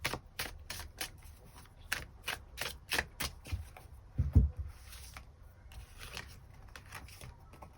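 Tarot cards are shuffled and drawn close up, a quick run of crisp riffling clicks and flicks followed by sparser soft slaps and rustles in a quiet room.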